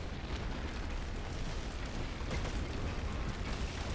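Stuka dive-bomber strikes in a war video game land as a dense, continuous roar of explosions and rumbling blasts, heavy and sustained throughout with no voices over it.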